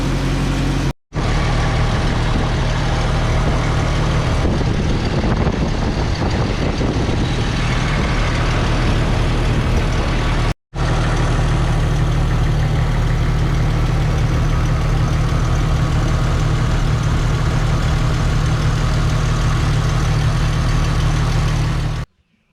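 A Jeep engine runs steadily after oil leak repairs, a loud, close, continuous idle with a deep low rumble, broken by two brief dropouts near the start and midway.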